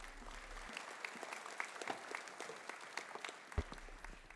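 Audience applause at a high school honor awards assembly for the senior class and student council senior officers, a steady wash of clapping from a large seated crowd, fairly faint and distant, with a brief louder thump near the end.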